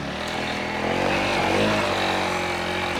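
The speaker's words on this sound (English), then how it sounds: "Start the bike properly first." A Honda CRF300L dual-sport motorcycle engine runs steadily and close by, a continuous buzzing drone that swells slightly as the bike pulls away.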